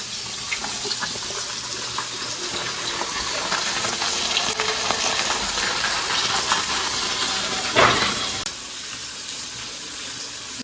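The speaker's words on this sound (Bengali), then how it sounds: "চলো মাছগুলোকে ভেজে নিয়ে তারপর কথা বলছি আগে" Katla fish pieces frying in hot oil, a dense, steady crackling sizzle held at an even level for about ten seconds, with a brief louder burst near the end.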